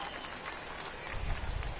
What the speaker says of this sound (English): in front of the hometown crowd